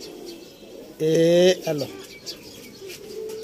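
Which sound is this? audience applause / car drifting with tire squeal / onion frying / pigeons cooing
pigeons cooing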